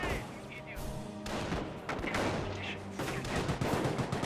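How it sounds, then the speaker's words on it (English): Battlefield gunfire in the WWII strategy game Company of Heroes: rapid bursts of rifle and machine-gun shots with booming impacts, dense and continuous, under excited voices calling out. "We're under fire, my god!"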